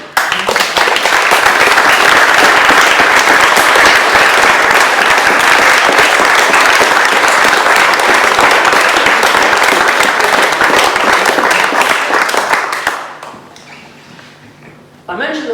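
Mourners at a memorial celebration of a mother's life applaud her, a loud, dense, sustained burst of clapping that fills the room for about thirteen seconds before fading, followed by a brief spoken moment.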